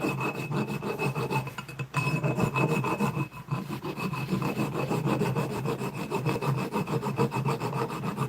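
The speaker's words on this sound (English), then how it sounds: "a square file for the 12mm slot for the QS273 hub motor" A square file works a 12mm slot for a QS273 e-bike hub motor, rasping in quick, steady back-and-forth strokes, close and continuous with a couple of brief pauses.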